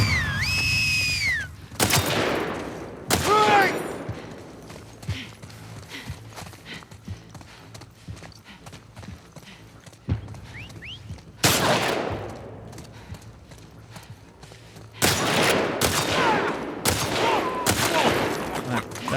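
Gunfire in The Last of Us Part II, with shotgun blasts and a rapid flurry of shots in several loud bursts separated by quieter stretches, plus hoof-like clattering and a short high-pitched squeal.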